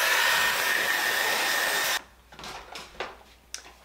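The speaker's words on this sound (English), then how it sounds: "blow dry them." Hair dryer blowing hard and close on wig lace coated with adhesive, a steady loud whoosh for about two seconds, then cut off, leaving a few faint rustles and taps.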